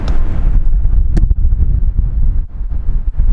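Wind gusts buffet the outside of a truck in snowy weather, loud blustery rumbles pressing against the microphone in uneven surges with brief lulls.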